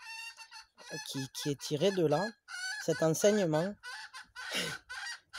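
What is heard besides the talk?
hen clucking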